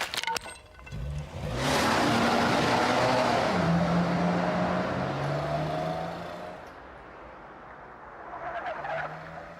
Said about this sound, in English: I heard a car pulling off really fast